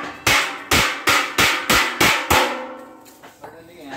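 Hammer blows on metal in a workshop building a roaster machine, six loud evenly spaced strikes followed by a few lighter taps, close and ringing.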